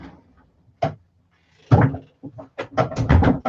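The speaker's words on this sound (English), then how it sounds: "Let me go shut the door." A door is shut indoors with a few close, sharp thumps and knocks, preceded by a single bump, in an otherwise quiet room.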